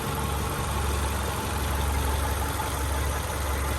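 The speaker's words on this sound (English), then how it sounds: "Idle's pretty smooth." A Subaru EJ203 engine swapped into an Outback idles steadily, a close, even low rumble with a constant hum and no talking.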